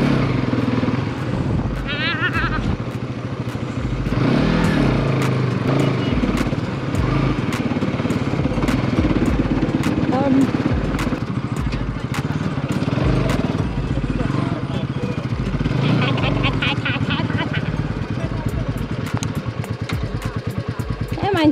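Small motorcycle riding along, engine droning steadily with clattering and shifts in pitch throughout, while people talk over it.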